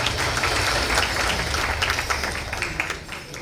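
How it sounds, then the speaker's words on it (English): Audience applause at a book launch on civil litigation in Kenya, a steady broadband patter of many hands clapping that holds throughout and tapers slightly toward the end. "Please, a round of applause for our MC."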